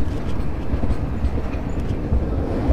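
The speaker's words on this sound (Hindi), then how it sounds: "ऑन टाइम पहुंची है हमारी metre gauge passenger train मटेरा railway station पे।" A meter gauge passenger train pulls slowly into Matera railway station with a steady, loud low rumble of rolling wheels and a few soft clicks from the cars.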